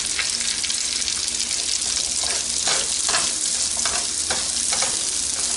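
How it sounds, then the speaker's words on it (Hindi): Cabbage, red cabbage, carrots and broccoli stir-fry in a pan, a constant bright sizzle with a series of scraping stirs and tosses recurring about every second. "अब मैंने कैबेज, रेड कैबेज और इसके अलावा कैरेट्स और ब्रोकली अंदर डाल के इसको हल्का सा फ्राई कर रही हूँ।"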